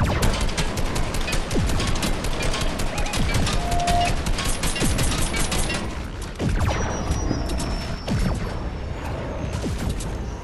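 Dense, continuous rapid gunfire in a video game, many overlapping shots and bursts crackling close and loud for about ten seconds, with a brief lull partway through before the firing picks up again.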